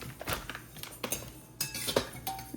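A spoon scrapes and clinks against a bowl while mixing spiced chickpea and potato pani puri filling at home, a series of irregular sharp taps and knocks, close and fairly quiet with no talking.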